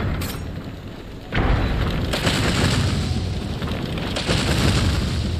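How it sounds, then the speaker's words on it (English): An explosion goes off in Dragon's Dogma: Dark Arisen, a sudden heavy boom that drops into a sustained loud roar of blast and fire, continuing for several seconds. "This is about to explode."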